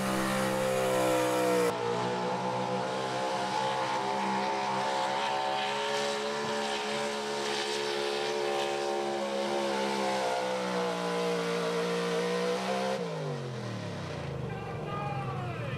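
Pulling truck engine screaming at high RPM down the track at a 2023 East Coast Nationals truck and tractor pull, a loud sustained harmonic roar that winds down sharply near the end, with an announcer talking over it.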